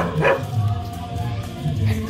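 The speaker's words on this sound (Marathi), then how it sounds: "इथे कुत्रा आहे." A dog barks a couple of short times, close by, at an outdoor chicken barbecue in a small village in Thailand, over steady background noise.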